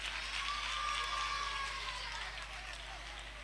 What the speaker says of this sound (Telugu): గట్టిగా ఒక క్లాప్ ఇద్దామా.